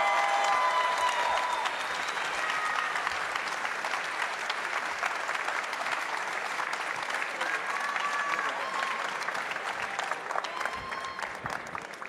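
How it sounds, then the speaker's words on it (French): Audience at the Coupe du Monde de la Pâtisserie Europe 2024 prize ceremony applauding the United Kingdom team, loud sustained clapping from a large crowd lasting throughout, with a voice faintly heard over it. "Un tonnerre d'applaudissements pour United Kingdom."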